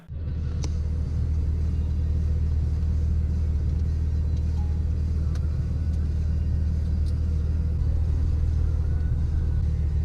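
A steady, loud low engine rumble fills the cabin of a moving Ford Falcon F6 Typhoon, continuous and unchanging throughout with faint road noise.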